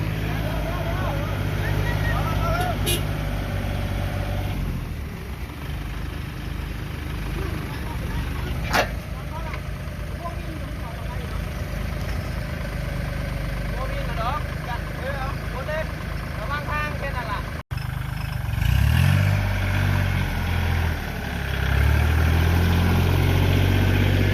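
A Kubota MU49 tractor climbing out of a muddy rice paddy, its engine a steady low rumble throughout, with someone talking over it.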